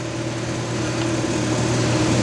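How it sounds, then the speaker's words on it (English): A mandrel tube bender in a recumbent trike factory bends a metal tube, giving off a steady, close motor hum with a constant tonal drone that holds even and unbroken throughout, with no voices. "This is also a mandrel bender,"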